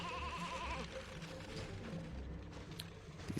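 Sheep bleating in the video game Banjo-Kazooie: Nuts & Bolts, a short wavering bleat at the start over a dense, steady game soundscape with rumbling low tones.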